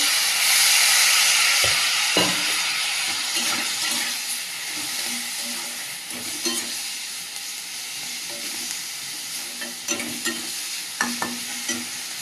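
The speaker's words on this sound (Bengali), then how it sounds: "সামান্য একটু জল দিয়ে দেবো, মশলাটা ভেজে নেব।" Spice masala frying in a pan with a little water, a loud hissing sizzle that eases off as irregular stirring scrapes and taps come through, no voices.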